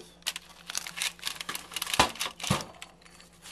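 A pizza cutter rolls through a baked apple galette, giving crisp crunching, crackling bursts of pastry at an irregular pace, close and fairly quiet.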